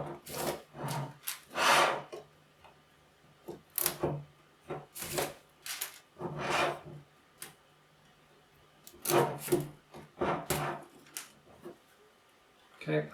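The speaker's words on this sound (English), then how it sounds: "tear and pull out the plastic strips" Plastic strips are torn and pulled out of a 3D-printed part, giving a series of short, scratchy rips and rasps in irregular bursts. A person talks quietly in between.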